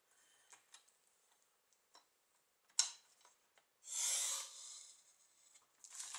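Paper being cut for a handmade flip book: quiet scattered ticks and light scraping snips, then a louder rasping cut followed by a sustained soft rustle of paper, close and with no talking.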